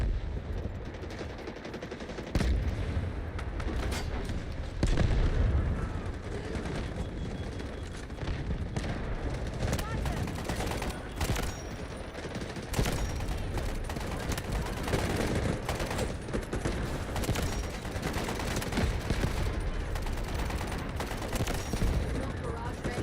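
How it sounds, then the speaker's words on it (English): Sustained battlefield gunfire with scattered heavy blasts, like an artillery barrage, in the video game Delta Force, loud and continuous for the whole stretch with dense overlapping shots and booms. "Request artillery barrage on coordinates. Roger that. Artillery barrage incoming."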